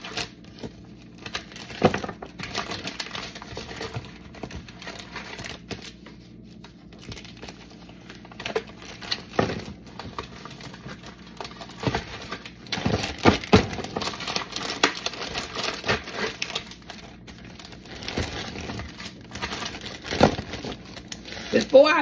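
Oreo cookies being packed into a plastic bag give off intermittent crinkling and rustling close up. The handling comes in bursts over about twenty seconds, busiest toward the middle and end.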